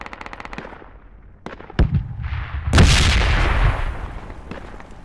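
Gunfire and grenade blasts in the Project Reality 1.4 tournament shooter: a quick volley of shots, then scattered single cracks, followed by a loud, sustained explosion rumble that rolls on for several seconds.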